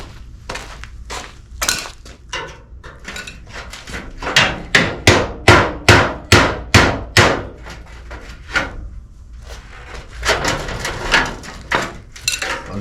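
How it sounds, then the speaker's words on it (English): Metal hammered back into shape over a dolly, with a run of loud, evenly spaced ringing blows and scattered lighter taps between them. "I'll just have to hammer and dolly it back together, I suppose."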